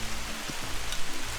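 Steady rain falls outdoors around a Weber Jumbo Joe grill cooking coffee-chili-rubbed beef short ribs, a close, even hiss of drops with no voices over it.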